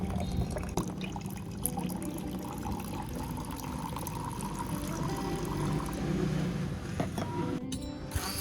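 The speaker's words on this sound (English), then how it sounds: "Now we're going to fill the container up with water." Room-temperature water pours steadily into a container, a continuous rushing splash that holds throughout without pause.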